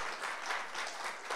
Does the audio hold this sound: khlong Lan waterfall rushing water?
no